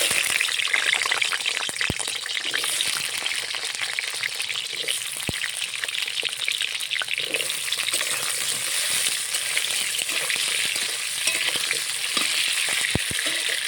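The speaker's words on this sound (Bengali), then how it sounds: "আলুগুলো সুন্দরভাবে ভাজা হয়ে গেছে, এখন তুলে নিচ্ছি।" Potatoes frying in a pan of oil for a Bengali bottle gourd and prawn dish, a steady dense sizzle with occasional crackles and stirring clicks, close and continuous with no talk.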